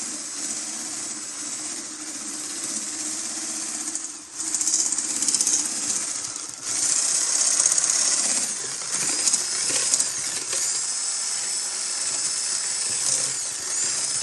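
An electric mixer beats powdered sugar into a cream mixture for a creamy fruit salad, giving a steady, loud, high motor whine with brief dips near the start and middle.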